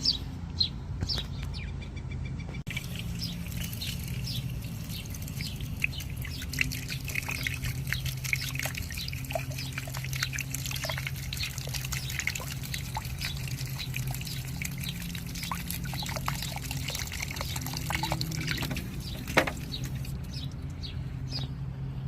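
Water trickling and dripping in a backyard while soaking the dry roots of a peony in a pot, a faint steady patter with scattered drips, and birds chirping in the background.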